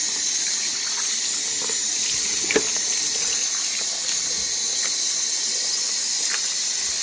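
Tap water runs steadily into a container of seed being rinsed for a homemade spod mix, a continuous bright hissing pour with a few small splashes and knocks, close and fairly loud throughout.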